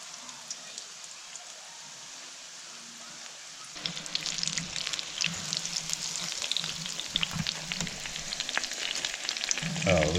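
Panko breadcrumb-coated food dropped into hot oil, quiet at first and then breaking into loud, crackling sizzling and popping that keeps going close up.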